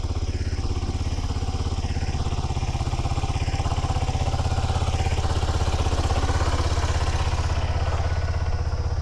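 A motorcycle engine idles at a steady, even rumble with a faint mechanical clatter, close by and unbroken for the whole stretch, with no voices.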